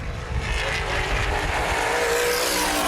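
Sprint cars race around the Baer Field Speedway oval in a Hoosier Outlaw Sprint Series event, a loud, continuous engine roar filling the track with steady racing noise and no clear breaks.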